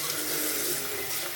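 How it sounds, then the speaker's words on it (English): A shaving brush is rinsed under a steady stream of tap water, the broadband splash continuous and close for the whole short stretch, with no voices. "So now we're going to rinse out the brush."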